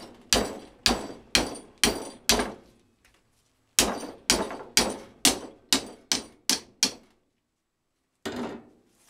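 Hammer striking a metal bracket being bent into a motorcycle camera mount, sharp close ringing blows in two quick rhythmic runs of five and eight strikes, then a pause and one softer knock.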